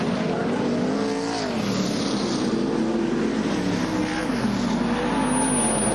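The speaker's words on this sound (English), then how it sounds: "Just rim riding this race car around this venue" A race car rides the rim of an oval track, its engine a loud, sustained roar that rises and falls in pitch as it laps, close and continuous with no talk.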